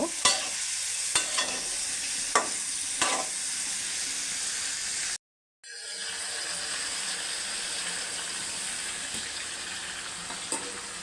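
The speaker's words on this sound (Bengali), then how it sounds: "এটা দিয়ে একটু নেড়ে চেড়ে ঢেকে দিব" Winter vegetables with dried fish are stirred in a pan over a steady, loud sizzle. A few light scrapes come early, then the sound drops out briefly and the hiss continues, close and without speech.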